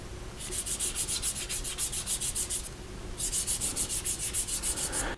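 Fingertips rub back and forth across the rough, textured back of a Xiaomi Poco M4 Pro 5G phone, giving a close, dry scratchy rasp in two bursts of quick regular strokes with a short pause between them.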